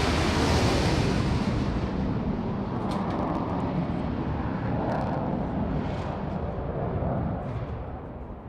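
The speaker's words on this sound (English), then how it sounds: "And now look to our right, starting his takeoff. This is the Typhoon," A Eurofighter Typhoon jet takes off at the Farnborough International Airshow with a loud, continuous broadband engine roar that stays steady and fades slightly at the end, mixed with wind buffeting on the microphone.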